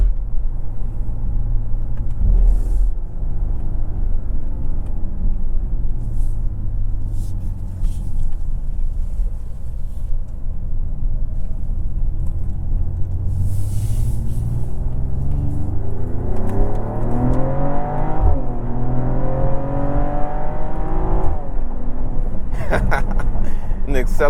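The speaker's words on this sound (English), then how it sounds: "the shifts of this 9-speed auto is just crazy. Definitely near dual clutch levels of shifting." A 2024 Mercedes GLE53 AMG with a 9-speed automatic accelerates hard, its engine drone rising and dropping through several quick gear shifts around the middle and end, loud and continuous with road rumble.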